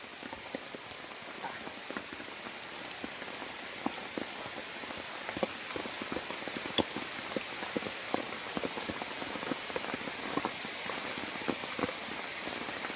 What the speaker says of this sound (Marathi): पाऊस पण भरपूर आहे आता लागतोय